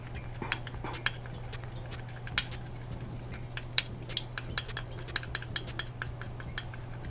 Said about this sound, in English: Mix it well until it comes together nicely.